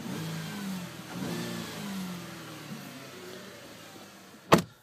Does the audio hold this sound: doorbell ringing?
no